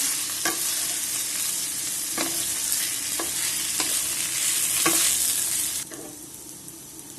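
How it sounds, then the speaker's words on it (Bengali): Biryani rice being stirred into a pot with browned ingredients, steady frying hiss with a series of spoon scrapes and knocks against the pot at irregular intervals, close by, quieter near the end, no talking. "এখন আমি এই চালটা নেড়ে নেব।"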